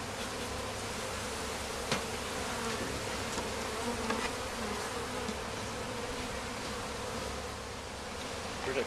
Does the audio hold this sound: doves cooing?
no